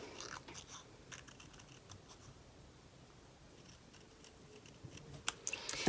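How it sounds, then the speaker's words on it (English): Scissors snipping around a paper flower for beginner card making, a series of faint, close clicks and crisp cuts spread irregularly through the clip over a quiet room, with no talk. "rather than cutting with the tip of my scissors, I'm cutting actually towards the inside of my scissors."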